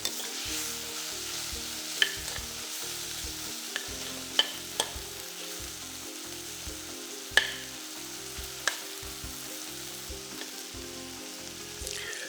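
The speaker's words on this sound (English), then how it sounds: "Fry all this together till it's fragrant." Salted fish frying together in a pan with oil, giving a soft continuous sizzle punctuated by occasional sharp clicks and scrapes of stirring; fairly quiet, close, with no voices.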